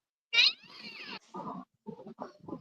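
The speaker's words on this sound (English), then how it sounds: "Where's that cat, Dottie?" A cat gives a loud, drawn-out meow up close, followed by a few shorter, broken meowing calls in quick succession, with no other sounds around it.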